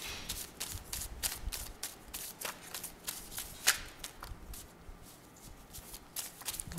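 A deck of cards is shuffled over and over, giving a quick rhythmic run of crisp riffling flutters close by, with no talk.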